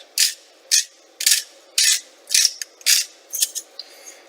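A pepper mill grinding black pepper gives a series of close, crisp ratcheting crunches in short bursts of about eight twists, each gritty and bright, with no talking.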